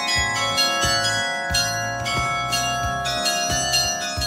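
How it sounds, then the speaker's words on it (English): A bell tower bell in Prague rings loudly and close, with repeated metallic strikes at a regular rhythm whose long ringing tones overlap and sustain throughout. "And then, here's the bell."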